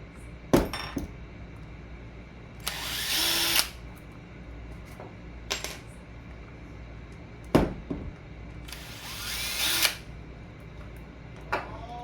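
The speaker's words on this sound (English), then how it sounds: "So that sounded really bad. It was just the clutch. Just the clutch slipping." A Traxxas Bandit RC car's clutch slips in reverse, giving two harsh, loud grinding bursts of about a second each, several seconds apart, with sharp clicks in between and no talking.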